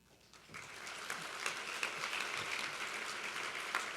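Faint applause rises and continues steadily, a crowd clapping at a distance with no voices, at an award ceremony.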